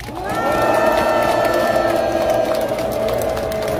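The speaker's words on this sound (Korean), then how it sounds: "우렁찬 함성 소리에 저도 힘이 불끈불끈 솟습니다" A crowd roars and cheers with sustained applause at the opening of a March 1st Movement anniversary sovereignty declaration ceremony, a loud, dense wall of voices holding steady for several seconds.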